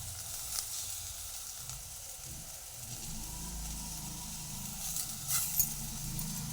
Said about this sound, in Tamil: இதை நல்லா வதக்கிடுவோம்.